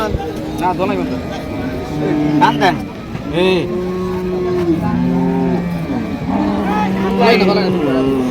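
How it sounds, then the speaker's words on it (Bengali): A Holstein Friesian dairy cow at a cattle sale in Comilla moos repeatedly, several long drawn-out calls close by, interleaved with people talking over steady background noise. "আমরা দেখি গরুটা একটু দেখাই"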